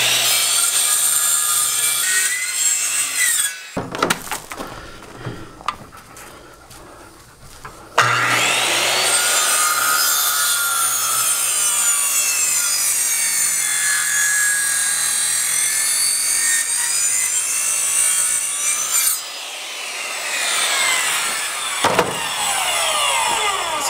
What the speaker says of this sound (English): So I cut in with the circular saw and it meets